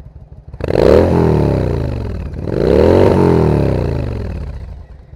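A Yamaha V-Star 1100 motorcycle engine revs loudly twice through throaty aftermarket exhaust pipes, each rev rising and falling, close by and with no talking.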